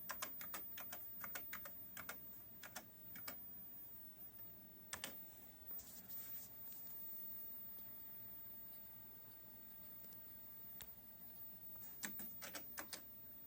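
Typing on the built-in keyboard of a Model 4 computer: a quiet, steady run of key clacks with irregular bursts and sharper single strikes, close up over faint background hiss, with no talking.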